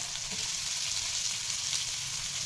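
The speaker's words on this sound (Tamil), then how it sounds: "எண்ணெய் நல்லா காயிட்டோம் காய்ஞ்சதுக்கப்புறம் வந்து கொஞ்சம் ஆனியன்ஸ் போட்டுக்கலாம்" Onions sizzle steadily in hot oil, a continuous, even frying hiss with no pauses and no voices.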